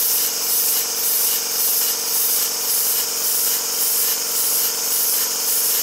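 A Tangye double mill engine turns over on compressed air, producing a steady hiss with soft rhythmic pulses in each rotation, continuous and fairly loud with no talking.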